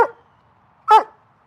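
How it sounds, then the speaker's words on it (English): A dog gives two short sharp barks, one at the very start and another louder one just under a second later, separated by near silence. "You bark, you bark, you bark, you bark."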